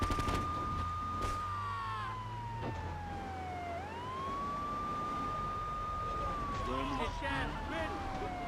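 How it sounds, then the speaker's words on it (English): Police car siren in the video game GTA III, a loud wailing tone rising and falling continuously over engine rumble and game noise. "Listen to the sirens. You're supposed to pull over."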